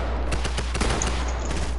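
Rapid SMG gunfire in a video game, a dense burst of sharp cracking shots rattling in quick succession over a steady low hum, close and loud throughout.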